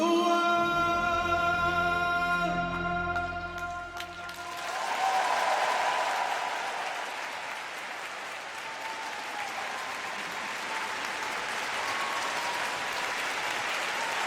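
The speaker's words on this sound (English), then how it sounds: "What a reaction from this crowd here in Yokohama, Japan" A figure skating crowd in Yokohama, Japan, applauds loudly after a men's short program at a junior competition, dense sustained clapping filling the arena as music fades out at the start.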